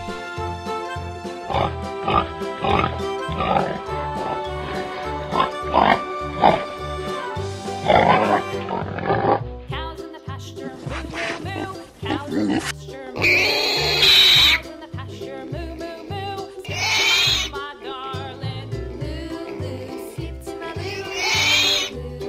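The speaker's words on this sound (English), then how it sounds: "Pig." A pig grunts and oinks repeatedly, mixed with louder squeals later on, all over continuous background music.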